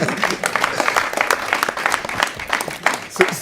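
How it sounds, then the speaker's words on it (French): A crowd applauds, a dense patter of many hands clapping steadily, with some voices faintly mixed in. "On va applaudir"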